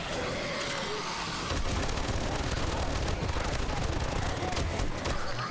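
Dense gunfire in 7 Days To Die while fighting a horde, a quieter rumble first, then continuous rapid loud bursts of shots and impacts that run on without pause.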